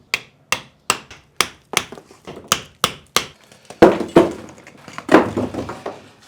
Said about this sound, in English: you probably better get this plaster off the wall